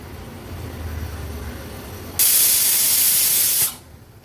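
A pressure cooker's whistle blasts out steam in one loud, continuous hiss lasting about a second and a half, cutting in sharply over a quiet kitchen background and stopping abruptly while cooking a Maharashtrian-style vegetarian meal.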